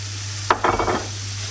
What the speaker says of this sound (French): On mélange légèrement